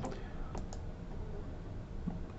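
A computer keyboard gives a few quiet, crisp key presses near the start, then goes still under a soft, steady background hiss; a faint tap sounds near the end.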